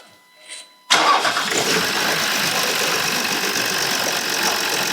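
After a moment of quiet, a Land Rover engine turns over and fires up abruptly, then runs at a steady, close idle during a power steering fluid flush.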